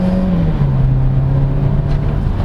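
A 2023 Ford Territory accelerating hard in sport mode, its engine drone loud and steady inside the cabin with a slight pitch drop as it shifts, road noise underneath.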